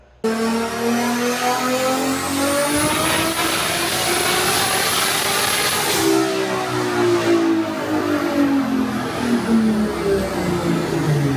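A BMW 335i with a swapped 2JZ engine making about 1,100 horsepower revs hard up close, pitch climbing to a sustained high wail, then dropping and climbing again in a loud, continuous engine roar.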